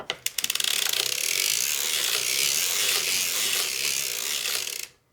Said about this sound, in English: now I'm going to just crank my 24 rounds for my hung hem